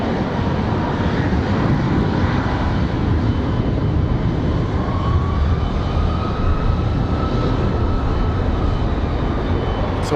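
A fixed-wing airplane lands at Raleigh-Durham International Airport, its engine roar a steady, loud, broadband rumble with a faint rising whine, filling the whole stretch without pause.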